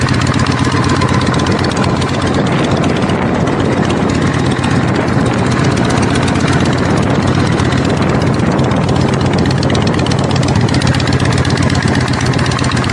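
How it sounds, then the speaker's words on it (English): Harley-Davidson Shovelhead motorcycle engine idling with no choke, a loud, steady, close-up chugging rumble that stays even throughout, with no voices. "sitting there idling with no choke on"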